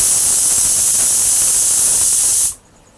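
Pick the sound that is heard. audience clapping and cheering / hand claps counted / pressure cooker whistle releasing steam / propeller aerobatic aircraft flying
pressure cooker whistle releasing steam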